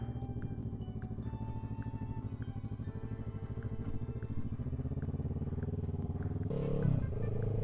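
Motorcycle fitted with an aftermarket eBay exhaust, heard while riding: a steady, rapid thumping exhaust pulse with a faint ticking overlay, swelling louder as the rider throttles up near the end.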